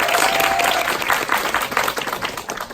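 An audience at an indoor gathering bursts into steady, dense applause, a crowd of hands clapping loudly and close for the whole stretch, with no talk over it.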